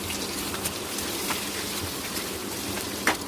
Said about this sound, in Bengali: পেঁয়াজটা আমি খুব ভালোভাবে ভেজে নিচ্ছি